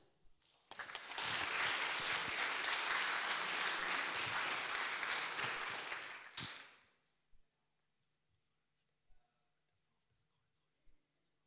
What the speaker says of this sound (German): Deswegen bitte ich jetzt um Applaus für das Team School Wi-Fi Rater